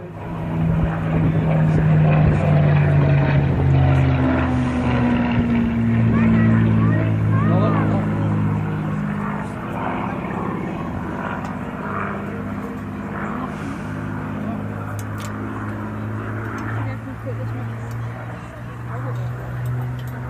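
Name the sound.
Spitfire propeller aircraft low flyby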